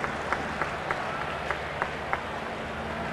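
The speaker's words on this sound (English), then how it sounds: "the crowd beginning to chant Darryl" Baseball crowd at a 1993 Dodgers vs. Florida Marlins game chanting "Darryl," heard as a steady roar of distant stadium noise with a series of evenly spaced rhythmic chant beats rising above it.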